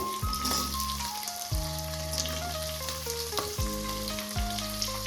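Onions fry in a pan for chicken biryani with a strong, continuous close sizzle, accompanied throughout by a background melody of sustained musical tones.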